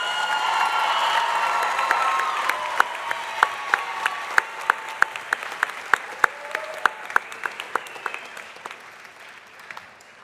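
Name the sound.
applause for graduates at a commencement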